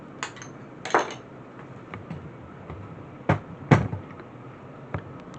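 Spoon clinking against dishes while potato salad is served, a few sharp separate clinks spread out over quiet room noise, two of them loud and close.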